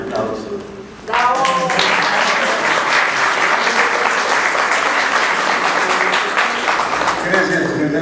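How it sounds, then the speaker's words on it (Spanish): Audience at a tribute ceremony bursts into loud, sustained applause after a brief stretch of speech, with dense clapping that continues steadily to the end. "yo pido de entrada un aplauso."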